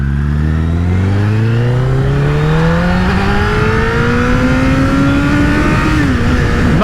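Honda CBR1000RR Fireblade SC59 superbike accelerating on a road at partial throttle, about 60 percent: a loud, close engine note climbing steadily in pitch through the gear, with a short shift-like wobble near the end and no talk.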